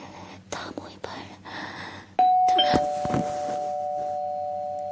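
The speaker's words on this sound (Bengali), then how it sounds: "এমন সময় কলিং বেলটা বেজে উঠল।" A doorbell rings as a sound effect in a Bengali audio story, a sustained electronic tone that holds steadily to the end. Soft whispered speech comes before it.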